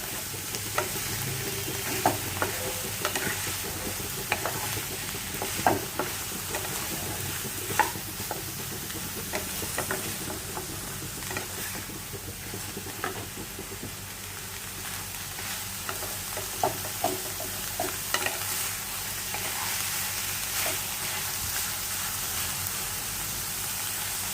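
A sprig of curry leaves sizzling in hot oil for a vermicelli pulao, a steady crackling hiss with repeated scraping stirring strokes and occasional louder pops, close, without talk.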